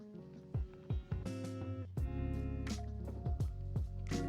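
Small drops of water fall into a glass of whisky as a string of quick, bright drips and plinks, a few close together, soft and close with a light ringing tone and no talk.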